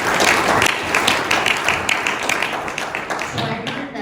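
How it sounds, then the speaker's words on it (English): Close, loud audience applause at a keynote talk, many hands clapping in a dense burst that thins and tapers toward the end. "I just want to give them another round of applause."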